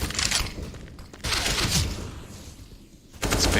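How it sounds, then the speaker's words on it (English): Gunfire in Counter-Strike during an ESL Pro League semi-final, a rapid rattling fusillade in loud bursts separated by brief dips, close and sharp, with no voices. "Spinks aware that the shots came from window."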